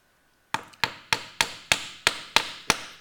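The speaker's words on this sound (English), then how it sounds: "take the other long dowel pin, and pound it through the hole until it bottoms out" Eight sharp, evenly spaced hammer blows drive a long wooden dowel pin through a hole in a wheel, each strike a crisp wooden knock with quick decay, close and loud with no talking.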